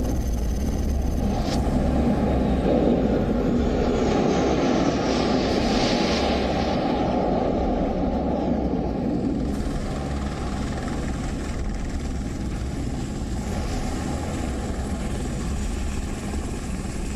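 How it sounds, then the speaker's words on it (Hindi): Navy fixed-wing aircraft and helicopters fly past over the aircraft carrier INS Vikrant at its induction ceremony, a loud, steady broadband engine roar that holds throughout without speech. "आईएनएस विक्रांत के इंडक्शन के मौके पर नौसेना के विमानों और हेलीकॉप्टर्स ने फ्लाई पास किया"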